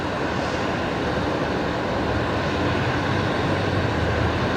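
An Emirates jet airliner departs Brisbane Airport at night, a dense, even engine rumble sustained at steady loudness with no voices over it.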